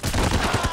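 Rapid automatic gunfire in the heist shooter Payday: The Heist, a quick burst of about six close, punchy shots in an even rhythm, loud and dense.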